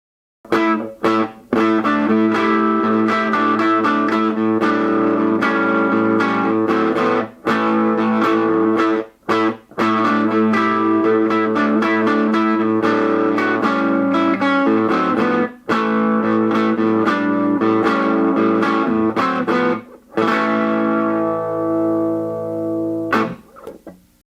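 Electric guitar played through a vintage 5-watt single-ended Decca-branded amp, loud sustained chords and notes with a gritty, overdriven edge, ringing out steadily before a final chord decays alone.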